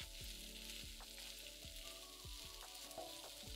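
Ivy gourd (kovakka) stir-fry sizzles steadily in a pan over a medium flame, a dense continuous crackle punctuated by a few soft stirring knocks, close and alone with no voices.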